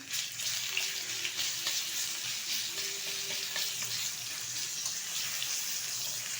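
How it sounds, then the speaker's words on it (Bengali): Crushed garlic frying in hot oil with a bay leaf and nigella seeds in a wok gives a steady, close sizzle with light stirring clicks, and no one speaks. "হালকা করে রসুনটা ভেজে নেব"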